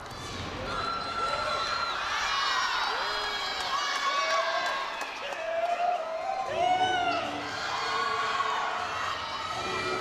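A large crowd at a college women's gymnastics meet at NC State, with GW and Pitt competing, cheers steadily through a floor routine. Shouts, whoops and high whistles rise and fall continuously over the whole stretch.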